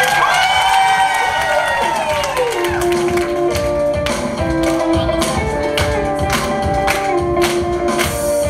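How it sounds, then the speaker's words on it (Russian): Audience applause and cheering at a karaoke show as a singer is introduced, crowd noise running loud and continuous under a blaring musical intro with sweeping tones and rhythmic hits. "Ну, ваши аплодисменты, Александр Кадин, поехали!"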